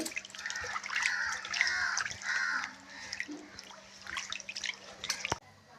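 Fish for a stew being washed by hand in water, with close splashing, dripping and trickling sounds that rise and fall continuously, ending in a sharp knock.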